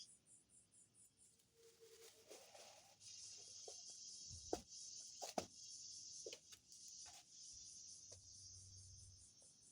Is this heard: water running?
no